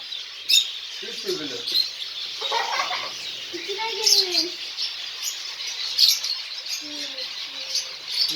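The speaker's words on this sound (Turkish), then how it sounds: "Buradakiler de sevda ve maskeli cennet papağanları." Lovebirds and masked lovebirds in an aviary give scattered chirps and whistled calls, bursts of shrill chatter spread over several seconds, fairly close, with occasional voices nearby.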